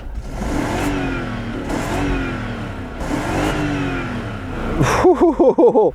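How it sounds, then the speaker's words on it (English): Old BMW engine running without oil and with a holed exhaust, revved hard three times in close succession with rising and falling pitch, then a rougher, pulsing burst of revs at the end, loud and close. "Let's give it some revs. Oh, this sounds better, and there's no soft limiter."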